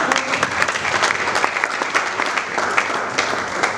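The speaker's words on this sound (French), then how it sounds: "On applaudit quand même." Sustained audience applause, dense and steady clapping from a sizable crowd throughout, fairly loud and close.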